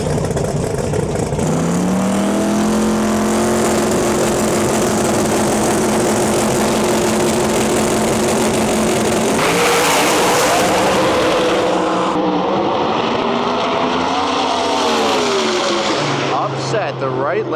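Drag racing cars, the Goblin and a 1960s Corvette, roar down the strip with screaming engines rising in pitch through gear changes, loud and sustained, with a commentator talking over the noise.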